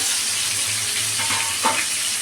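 Large pieces of boal fish, rubbed with salt and turmeric, frying in hot oil in a pan, giving a steady close-up sizzle with a brief louder spatter near the end and no talk.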